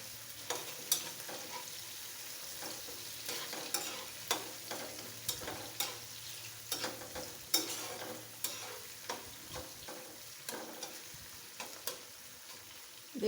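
Shrimp and onion fry in oil with turmeric and salt, making a faint, steady sizzle under repeated scraping stirs of a spatula against the pan at a regular rhythm.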